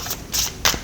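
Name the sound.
shuffling tarot cards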